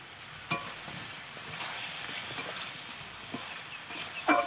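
Chopped tomato is stirred into a chicken and potato curry frying in a pot, with a soft low sizzle broken by a few light clicks and scrapes of a spoon.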